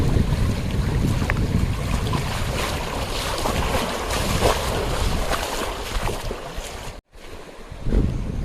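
Rushing river water swirls and splashes steadily during a river crossing on an evening jungle hike through dry deciduous forest, with wind buffeting the microphone and a brief drop partway through.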